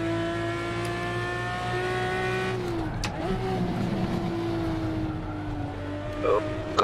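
A Porsche GT4 race car in the video game Assetto Corsa, its engine holding a steady drone with pitch dips and shifts as the car slides, a short scrub of tyre noise near the end, and a voice talking over it.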